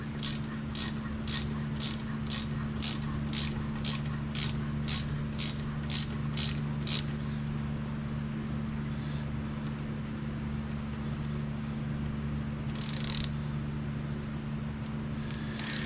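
A helicoil thread insert is wound into a cylinder head with a ratcheting tool, giving about a dozen evenly spaced sharp clicks over a steady low hum, then a quieter stretch with one brief scrape.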